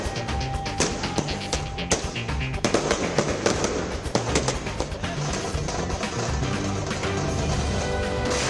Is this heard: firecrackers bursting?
yes